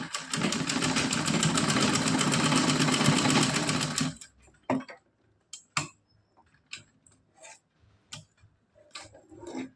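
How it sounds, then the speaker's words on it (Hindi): A sewing machine double stitching net and lace fabric runs loudly and steadily for about four seconds, then stops, followed by scattered clicks and handling knocks nearby. "और यहाँ पे हम डबल सिलाई कर देंगे।"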